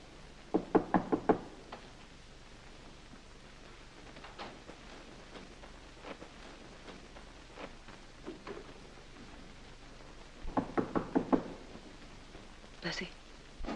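Several sharp raps on a wooden door, one quick cluster near the start and another later, fairly close over a quiet room, with a little talk and faint hiss between the knocks.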